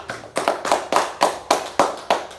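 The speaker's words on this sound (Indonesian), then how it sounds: "Tepuk tangan buat Indi" Classroom children clap together in a steady rhythmic beat, eight or nine sharp, evenly spaced claps in quick succession, fairly near and moderately loud.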